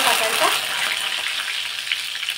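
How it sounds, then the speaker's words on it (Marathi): Garlic and coriander sizzle loudly in hot oil for a tempering, a close, steady crackling hiss with small bursts of spatter. "आता इथे लसूण आपला मस्त फ्राय झाला आहे तेलामध्ये"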